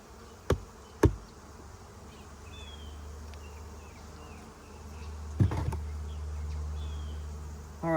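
Steady honey bee buzzing around an open hive fills the background, with a couple of sharp knocks near the start and another around the middle, nearby and moderately quiet.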